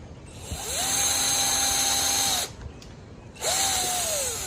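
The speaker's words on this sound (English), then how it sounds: "one thing that is always good to do when you're dealing with these really tiny screws is to always pre-drill" A small power drill whirs up to a high steady whine for over a second while drilling pilot holes for tiny screws, stops, then spins up again briefly; close and loud.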